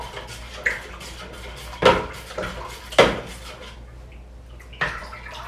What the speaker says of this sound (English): Still getting some honey on the spoon after stirring